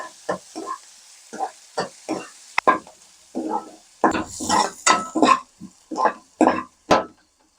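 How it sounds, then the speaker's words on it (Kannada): Finely chopped onions fry in hot oil for a cashew masala curry, crackling in repeated bursts of sizzle with stirring between them at close range, no voice over them. "ಈರುಳ್ಳಿ ಗೋಲ್ಡನ್ ಬ್ರೌನ್ ಆಗೋವರೆಗೂ ಫ್ರೈ ಮಾಡ್ಕೋಬೇಕು."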